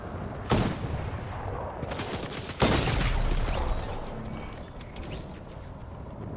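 Gunfire from a video game, with a couple of loud sharp bursts standing out against a busy background of crackling shots and mechanical clatter, with no talk.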